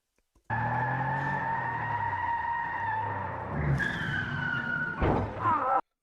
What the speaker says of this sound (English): That's also a lot of car sound in the background.